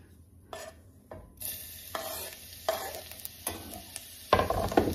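Oil sizzling and frying in a pan as rice is stirred for a fluffy rice dish, with scraping utensil strokes recurring every second or so and a louder burst of frying near the end, close and without talk.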